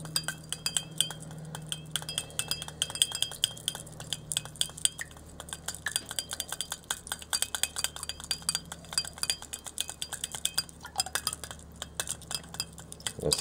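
A utensil stirring a chlorine- and chloramine-removal product into water, with steady rapid clinks and scraping against the container throughout, close and continuous.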